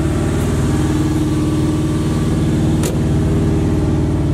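A Box Chevy engine idles steadily, burning off excess fuel left in the cylinders, with a loud, even throbbing rumble that holds without pause.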